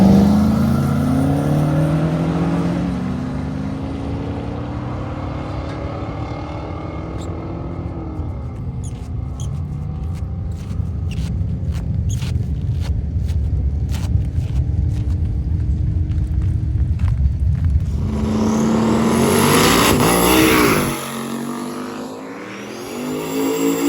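Junior drag racing cars making eighth-mile passes at a drag strip, a sustained high buzzing engine note that swells and holds for many seconds, then fades with a rising whine as the cars pull away.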